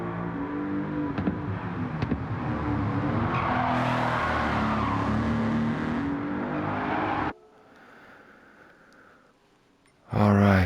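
BMW Z8 in Gran Turismo 7 roaring loudly with exhaust pops and tire squeal for about seven seconds, then dropping to a quiet idle-like murmur before a sudden loud burst returns at the end.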